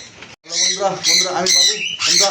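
Loud, harsh squawks from pet birds such as sun conures, pineapple conures and cockatiels repeat in quick bursts close by, with a busy indoor bird-shop background.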